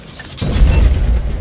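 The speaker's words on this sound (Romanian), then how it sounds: "Ah, tunul ăsta de tank e al nostru." A tank cannon fires in a multiplayer military shooter game, one loud deep boom that rolls into a long rumbling tail, close and heavy, with no talk.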